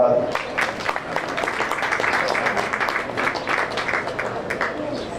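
A crowd in the arena at a county fair swine show applauds a breeding gilt, steady many-handed clapping held at moderate loudness for several seconds, tapering slightly toward the end.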